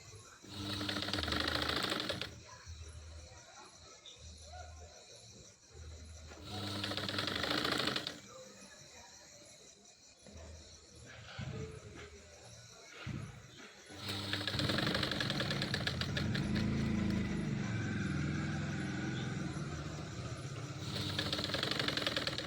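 A sewing machine stitches a strip onto a katori blouse in three bursts of rapid, rattling whirring, with quieter gaps of handling sounds between runs.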